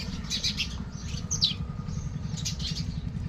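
Small birds, pigeons among them, chirp in bright bursts while wings flutter as they gather to peck at scattered grain, with a steady low rumble underneath throughout.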